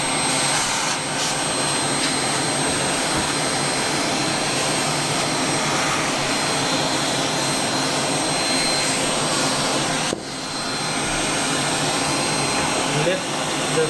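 Compressed air blasting dust from a Dell XPS One A2010 all-in-one computer while a vacuum cleaner runs nearby, making a steady loud rushing whine that continues almost unbroken, with a brief dip near the end.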